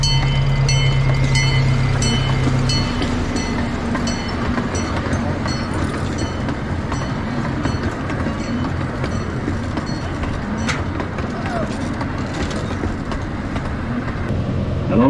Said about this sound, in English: the train as it approaches us at the station